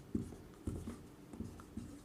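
Pen or chalk scratching as a logarithmic differentiation equation is written during a maths lesson, a few short, faint, intermittent strokes with gaps between them.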